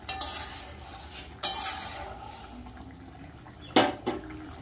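Pieces of fried fish go into a simmering mustard-chili fish curry sauce, giving a few sharp splashes and clatters against a quiet bubbling background, with one soft hit early and a louder pair of sploshes near the end.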